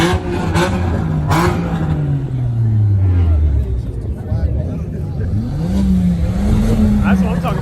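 Car engine revving at a car meet, loud and close, its pitch sweeping down, then rising again in a second rev, with crowd chatter and voices around.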